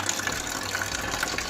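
Water gushes steadily from a newly installed household water purifier, a constant close hiss and splash that holds at an even level with no talk over it.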